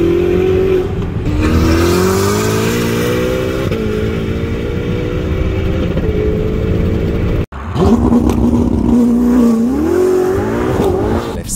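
A Ferrari SF90 Stradale with a 4.0 V8 accelerates hard, its loud close engine note climbing steadily through the revs, breaking briefly at a gear change, then rising again in another strong pull.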